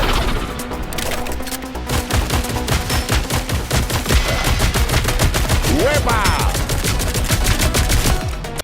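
The Hood blasts dual pistols in Marvel Rivals, a relentless rapid stream of loud, close gunshots layered with impacts and effects over the whole stretch.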